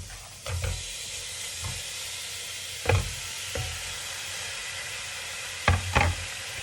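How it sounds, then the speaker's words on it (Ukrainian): Meat sizzles steadily in a hot dry pan with no oil, a constant hiss broken by a few sharp pops and crackles. "Так м'яско нарізала і відправляю на суху сковорідку, кастролю. Не додаю олії на нічого зовсім."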